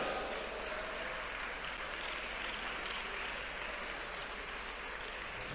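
A church congregation at an IPC prayer centre clapping together, dense continuous applause heard from a distance, filling the room evenly.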